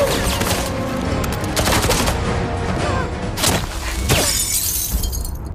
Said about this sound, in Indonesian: Jintai dan Anna beradu tembakan